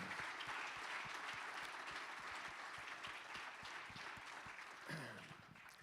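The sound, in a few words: applause for Paralympic athletes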